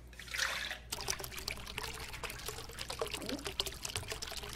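Colored liquid poured into a Jelli Worldz toy tank, a soft close trickle and splash that runs steadily for several seconds.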